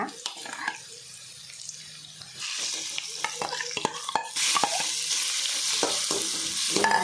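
Prawns fry in oil for prawn fried rice, with a sizzle that grows louder partway through and busy clattering scrapes of stirring against the pan, close up.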